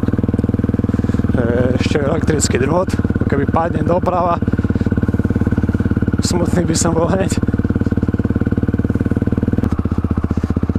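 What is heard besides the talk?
supermoto motorcycle riding on a trail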